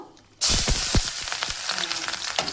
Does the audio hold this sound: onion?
yes